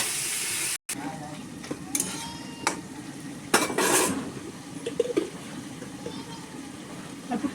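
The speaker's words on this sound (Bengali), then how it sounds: "আমি বেগুনটা একটু ভালো করে ভেজে নেব" Eggplant frying in a pan with chili powder, giving a soft steady sizzle with a few scattered scrapes and clinks of a spatula, fairly quiet and close, with a brief break near the start.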